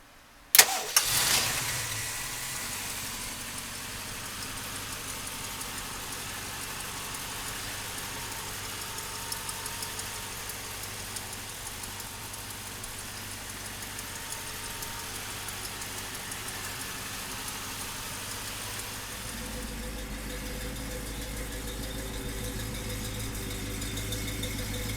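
A 1973 Ford Mustang with a 351 V8 cranks and fires with a sharp burst, then settles into a steady, rumbling idle that runs unbroken, its low throb deepening near the end.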